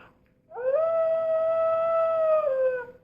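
A single drawn-out electronic howl from a toy of Dug the dog, rising at the start, holding steady for about two seconds, then dipping and fading.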